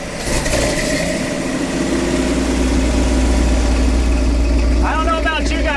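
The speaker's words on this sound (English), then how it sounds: "there's nothing like the sound of a big block going through a set of Super 40s" A Ford 460 big block V8 runs through a set of Super 40 mufflers, a loud, steady, deep burbling idle close by, with a brief higher chirp near the end.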